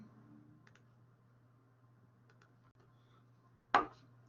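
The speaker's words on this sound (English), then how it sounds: "now let me take my keyboard off" A computer keyboard is lifted and set aside, with a few soft clicks and taps and then one sharp knock as it comes down, heard close and alone over a faint steady hum.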